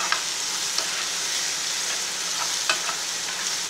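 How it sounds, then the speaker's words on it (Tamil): Torn chapathi pieces sautéed with chilli powder in a pan, a steady sizzle with a few sharp scrapes and taps of a spoon stirring, close and alone. "இதில் கொஞ்சம் சில்லி பவுடர் போட்டுக்கிடுவோம். கொஞ்ச நேரம் இப்படி வதக்கிட்டுருங்க."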